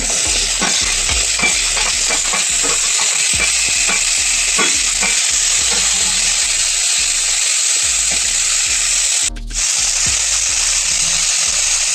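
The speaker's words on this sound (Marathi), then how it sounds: "आता आपण टमाटे टाकून घेऊ." Raw tomatoes hit a hot pan and fry in a loud, continuous sizzle, with rhythmic stirring scrapes running through it and a brief dip near the end.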